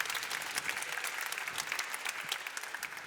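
Steady applause from an audience at a catering celebration, a dense continuous patter of many hands clapping at moderate volume for about three seconds.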